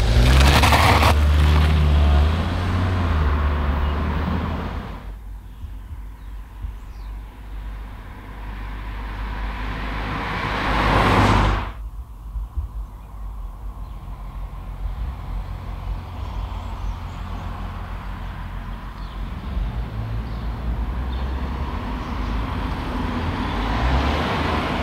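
A 2018 Ford Fiesta in Titanium or ST-Line trim drives along the road, its steady engine and tyre roar loud throughout, with a brief swell of passing noise partway through and no one talking.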